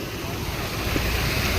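Strong rushing floodwater roars in a continuous broadband wash, loud and close, with wind buffeting the microphone and no break in the flow.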